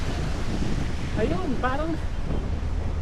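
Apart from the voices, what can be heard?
strong wind blowing during rain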